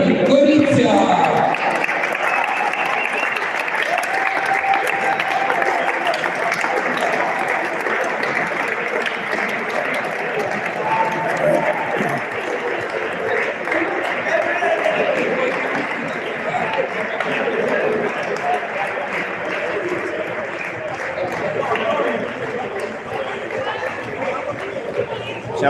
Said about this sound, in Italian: Un grande applauso allo Slovone!